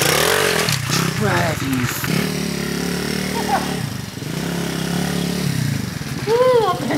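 Motorcycle engine revving and droning close by while riding, rising and falling with throttle, under excited voices talking over it.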